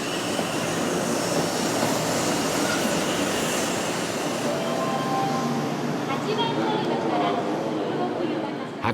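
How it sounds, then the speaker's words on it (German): Hello Kitty-liveried Shinkansen 500 series train rolling slowly into a siding, a steady rumble of wheels on rails with faint squeals near the end, heard from close by. "Auch der Hello Kitty Shinkansen rollt heute aufs Abstellgleis."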